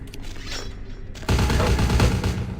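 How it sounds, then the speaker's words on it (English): Gunfire erupts in the video game Vampire The Masquerade, a quieter muffled stretch that abruptly gives way to a loud, dense barrage of rapid shots and booms, close and continuous. "They were all just shooting him. They were all just shooting that guy."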